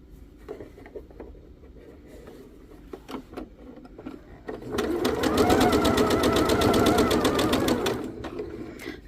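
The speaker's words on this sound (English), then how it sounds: "I will sew on the next one" A sewing machine stitching a quilt block runs loud and steady for about three seconds, a fast close mechanical whir, after a few soft taps and fabric handling.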